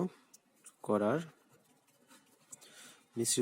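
Pen scratching across paper as a chemistry problem on solubility product is written out, in soft brief strokes under a teacher's speech.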